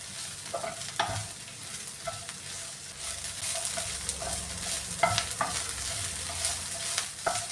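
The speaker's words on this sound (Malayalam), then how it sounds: "ഇത് ഇടയ്ക്കിടയ്ക്കൊന്ന് ഇളക്കി കൊടുക്കണേ." Kerala-style beans mezhukkupuratti stir fry is stirred in a pan, a soft steady sizzle broken by repeated scraping strokes and sharp clicks of the spoon against the pan, with no one speaking.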